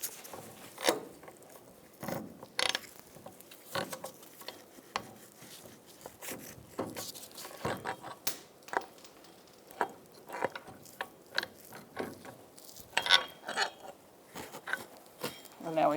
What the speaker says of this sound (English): So now I'm gonna take off this nut.